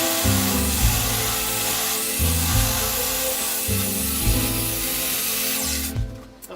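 Table saw ripping a 4x2 oak board, a steady loud whine with rhythmic dips as the wood feeds past the blade, then the motor cutting off and winding down at the end.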